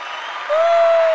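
A soundboard applause effect: a burst of applause and cheering from a crowd, played loud and steady with a sustained tone ringing through the second half.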